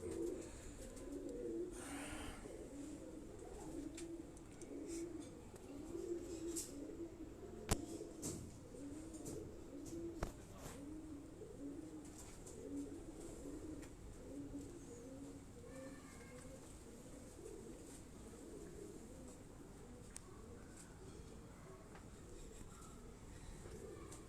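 Pigeons kept on a Rawalpindi rooftop coo in faint, continuous low murmurs, with a few sharp clicks and knocks scattered through and occasional distant voices in the background.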